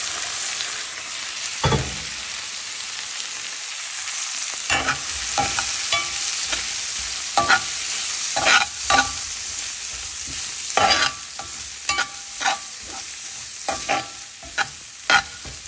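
Big prawns sizzle steadily in a pan, with a constant frying hiss broken by repeated sharp clatters of a spoon stirring, loud and close.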